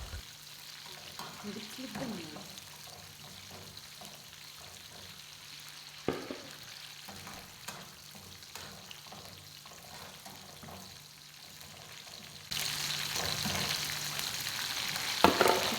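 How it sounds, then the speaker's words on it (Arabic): Madfouna, a traditional Tunisian dish, fries in oil while being stirred, a faint steady sizzle with scraping stirs and a louder burst of crackling near the end. "بقاو حركوا فيه بالطريقه هذه حتى يتقلى مليح ويحبس، يعني ما يبقاش يطرطق في الزيت"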